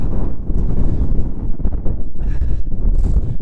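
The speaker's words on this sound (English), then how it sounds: "Very windy, so I've got my furry mic on." Strong wind on a mountain summit in County Kerry roars and thumps against a furry-covered microphone, a dense low rumble that never lets up.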